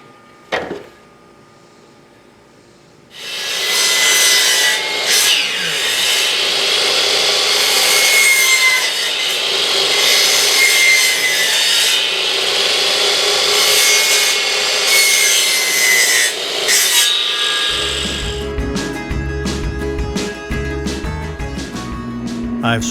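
A hand saw lops the ends off wooden pieces for miters with a long, loud, continuous rasping run of strokes after a quiet start, ending in a rougher, choppier stretch.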